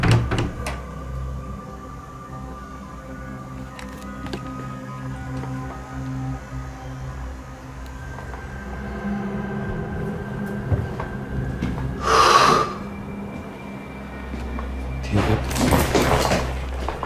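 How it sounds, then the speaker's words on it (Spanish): A door slams shut in a room in a home, landing as one sharp, loud bang against low background noise, followed a few seconds later by further louder knocking and rattling. "puede captar cómo una de las puertas que está en la habitación se cierra nuevamente"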